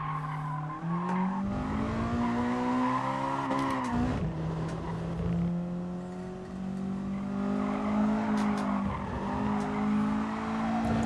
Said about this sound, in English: I do quite like how audible the VTEC is. It really just gets to a certain RPM and just opens its lungs.